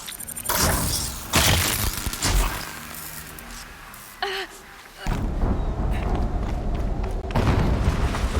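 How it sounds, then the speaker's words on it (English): A deep boom and shattering crash break out in a Horizon Zero Dawn ruin, loud and close, followed by rumbling debris and layered game effects, with brief voices and a gasp in the mix. "An explosion."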